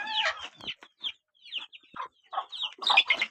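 Chickens clucking and squawking close by in a hot-weather coop, a run of short, choppy calls with brief gaps between them.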